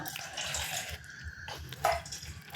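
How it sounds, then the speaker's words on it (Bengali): Warm water poured into a large bowl while making malpoa pitha, a steady splashing, running stream heard close up that briefly eases midway before picking back up, with no talking. "এই বাটিতে আমি একটু উষ্ণ গরম জল নিয়ে নেবো"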